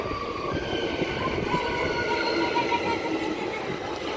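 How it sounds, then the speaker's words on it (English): A Perth six-car electric commuter train pulls into a suburban platform nearby, its motor whine and wheel-on-rail rumble steady and loud, with rising tonal squeals and brake hum throughout, no voices. "And then right next to me on platform 1 there's a Perth service arriving."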